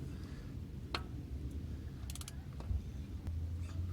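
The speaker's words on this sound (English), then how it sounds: "Lock in your tool and turn it lefty-loosey." A filter tool turns the oil filter housing on a 2017 Toyota RAV4, giving a few faint ratcheting clicks and creaks over a low steady hum, with no talk.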